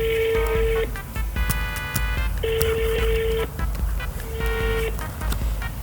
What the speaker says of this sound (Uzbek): ikkinchi mijozimizga telefon qilamiz